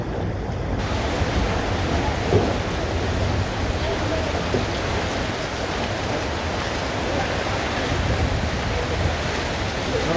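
Strong stormy wind gusting through a roadside market at Bishoykhali in Jhenaidah during rain, a constant loud rushing roar with buffeting noise on the microphone throughout.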